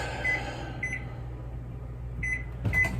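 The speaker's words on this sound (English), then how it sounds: "Now I'm going to put them into Sous Chef Mike, otherwise known as the microwave." A microwave oven hums steadily while melting butter with pecans, broken by a few short electronic beeps and a final click near the end.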